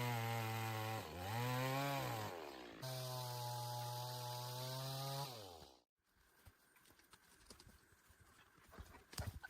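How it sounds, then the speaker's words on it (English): A chainsaw cutting notches in logs for the crossbeams of an underground log cabin, loud and close, droning steadily with pitch dips as the blade bites, then cutting off into a quieter stretch of scattered wood knocks and handling noises. "Chainsaw notching creates a mechanical saddle for the crossbeams."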